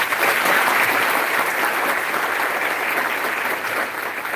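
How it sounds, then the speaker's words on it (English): A loud, sustained round of applause from an audience of students and families at a first-year induction ceremony fills the hall, steady and dense throughout with no talk over it. "So please give them a loud round of applause."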